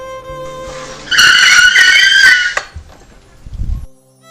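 A cab brakes hard to a sudden stop, its tires letting out a loud, sustained screech for about a second and a half, followed by lower rumbling thuds as the car settles; no one speaks.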